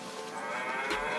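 A person imitating a cow, giving a short, quiet moo-like call that rises near the end of a brief moment, heard alone without other talk.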